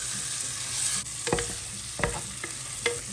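Marinated chicken being stirred into caramelized browned onions in a hot pan, a steady background sizzle with four or five distinct scraping stirs, close and quiet, no talk.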